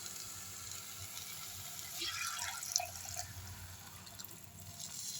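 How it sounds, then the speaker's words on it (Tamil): Tamarind water pouring steadily into a pot, a soft continuous splashing and trickling that swells midway, with faint drips. "இப்போது இந்த புளி தண்ணி எடுத்து ஊற்றிக்கலாம்"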